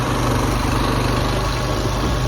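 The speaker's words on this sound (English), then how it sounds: "This one is called a Grillo G110 walk-behind tractor with the Rotary Plow attachment." Grillo G110 walk-behind tractor fitted with a rotary plow attachment, its engine running steadily at close range with a loud, continuous low throb and no voices.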